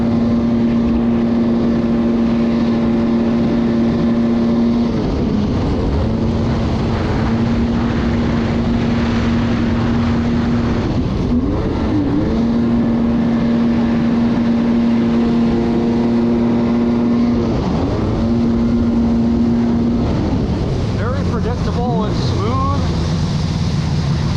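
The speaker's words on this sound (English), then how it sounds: "The engine's still holding revs in the corners" A Yamaha GP1200R personal watercraft holds a steady, loud, high engine whine through turns, the pitch dipping and recovering briefly a few times as it corners on the water.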